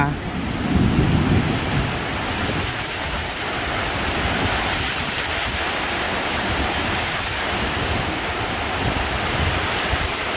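Heavy midday rain pours over rice paddies in a steady dense roar, with a low rumble of thunder swelling early on before the downpour continues evenly.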